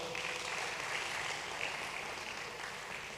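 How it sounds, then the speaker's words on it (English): Audience applause for a school choir performance at a TEDx event, a steady, even wash of many hands clapping from a distance, sustained throughout without any voices breaking through. "Can we please get one more round of applause for all of them?"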